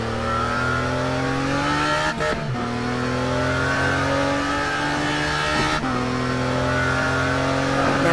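Ferrari 612 GTB China Edition in the racing game Test Drive Unlimited 2, its engine holding a steady high drone with clear harmonic tones, broken by two brief dips like gear shifts, loud and close throughout with no talk.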